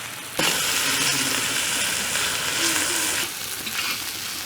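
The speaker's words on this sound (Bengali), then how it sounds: "বড় মাছের ডিম সুন্দর করে কাঁচামরিচ পেঁয়াজ কুচি দিয়ে ভেজে নিলাম।" Fish roe frying in a pan with chopped green chili and onion, after garlic and ginger paste went in: a steady, close sizzle that jumps up sharply, holds for about three seconds, then eases slightly.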